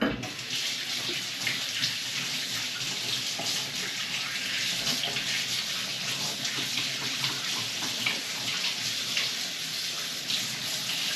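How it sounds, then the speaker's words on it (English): Tap water runs steadily while hands are washed under it, a close, continuous broadband rush with small splashy fluctuations and no talking. "So what I'm going to do is I'm just going to quickly wash my hands"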